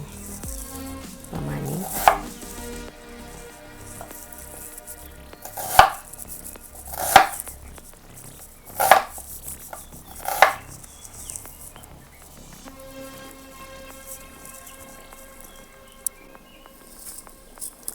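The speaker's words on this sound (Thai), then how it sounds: "หัวหอม หั่นยังไงดี หั่นยาว หัวหอมหั่น" A knife chops through onion, cut lengthwise for a salad, on a board in a few separate, crisp strokes spaced apart, close and fairly quiet otherwise.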